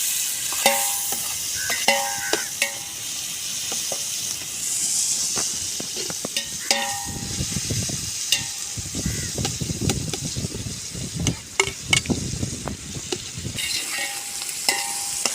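Onions and tomatoes sautéing in a hot pan for a mussel curry, loud sizzling and hissing broken by repeated scraping stirs and clinks of a spoon, with no talk.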